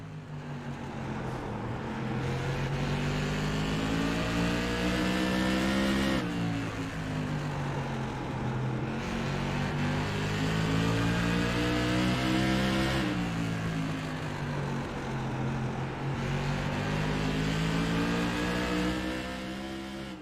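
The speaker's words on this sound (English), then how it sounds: "Riding on board with Ron Hart, you can hear and see just how much he is trying to push this car" Modified race car engine at Southern National, heard on board at close range, loud and constant throughout, with rising and falling rev pitch and sharp lifts around each corner, and no talk over it.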